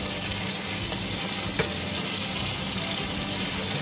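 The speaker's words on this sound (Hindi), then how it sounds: "जी तो अब देखें आप, अच्छे से इसकी भुनाई हो चुकी है," Potato curry with yogurt fries and is stirred in a pan, giving a steady close sizzle with soft scraping of the spoon throughout and no talking.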